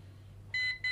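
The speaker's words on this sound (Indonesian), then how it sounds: "sampai bunyi bip-bip itu sudah mulai untuk dikalibrasi" Two short electronic beeps from an MJX B7 drone starting calibration sound close by, each a bright steady tone, over a faint low hum.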